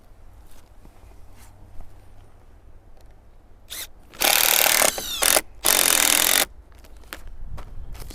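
A power drill drives screws through a plastic cover into stacked firewood outdoors, with two loud, steady whirring bursts a couple of seconds apart amid quieter rustling and handling.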